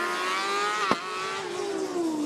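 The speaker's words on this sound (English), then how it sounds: "Metz hard on the brakes into Ross's chicane." A Formula Student race car engine drones with shifting harmonic pitch at Formula Student UK 2019, then a sharp burst as it brakes hard into a chicane, the engine note dropping and falling away afterward.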